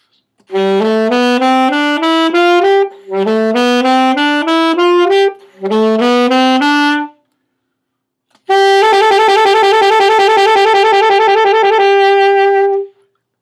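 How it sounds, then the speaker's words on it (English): An alto saxophone plays the alto 2 part of Rhapsody in Blue: three stepwise phrases of detached notes, pausing between them, then holds a long sustained note with a richer layered sound. "The alto 2 part sounds a little bit like this."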